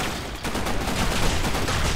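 Rapid bursts of gunfire from the Blackshot competitive shooter fill the whole two seconds, a dense, loud crackle of overlapping shots with no pause.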